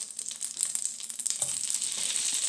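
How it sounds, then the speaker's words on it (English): Pasta hits hot oil in a pan and sizzles loudly and continuously up close, with a few light stirring scrapes through the steady hiss. "it's oily enough. Now, it's time to put the pasta in"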